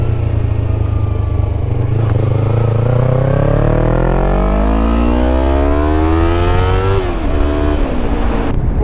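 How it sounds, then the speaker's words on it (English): A warm Norton motorcycle engine running loudly after a hot start, its note climbing steadily in a long rev before dropping back near the end, with a constant rumble underneath. "Something about this Norton tune, I think, it just doesn't love to start after running."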